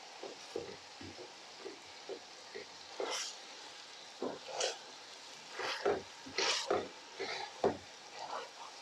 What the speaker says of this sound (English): what I like to do is I like to get a crusher and just give the masala